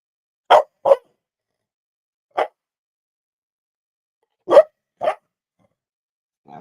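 A dog barks during a meltdown indoors, five short sharp barks spaced irregularly over several seconds, close and fairly loud with silence between them.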